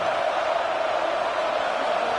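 Stadium crowd roar from a college football game in Madden 24, a steady dense wash of massed voices holding at one level throughout with no distinct cheers or talk standing out.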